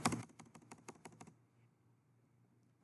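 A quick run of clicking keystrokes, space and enter presses on a computer keyboard, heard close and then stopping, leaving near silence.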